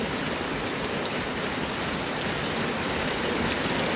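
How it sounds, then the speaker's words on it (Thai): Steady, even hiss of rain pouring down outdoors at a building site, a dense continuous patter close by with no voices. "ฝนตก"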